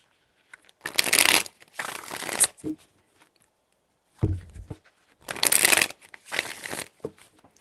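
Cards shuffled by hand during a reading, several bursts of dense papery riffling separated by short pauses, close and fairly loud, with a low soft thump between bursts.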